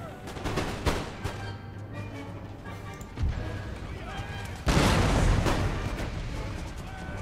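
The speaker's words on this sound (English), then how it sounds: "devastating shot with canister there" Canister shot from artillery in Empire Total War thunders in repeated volleys, crackling bursts of gunfire and booming cannon blasts in battle, with a loud heavy salvo near the end under ongoing talk.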